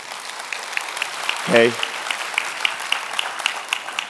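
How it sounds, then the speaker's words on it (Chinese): Audience applause welcoming a guest speaker, a Royal Master visiting from Korea, at a company introduction event: sustained clapping from a crowd in a hall, with a brief spoken interjection partway through. "我们再次掌声欢迎他"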